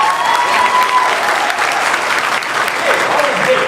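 A live audience at a coaching seminar claps loudly and continuously, a dense, close wash of hands filling the room with faint crowd noise underneath.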